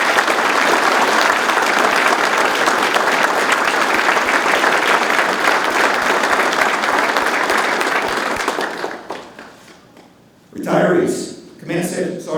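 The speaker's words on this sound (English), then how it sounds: "please join me in a round of applause for our military families" Audience at an Army retirement ceremony at Fort Irwin's National Training Center applauding in a long, loud, sustained round that fades after about nine seconds, followed by a speaker's voice.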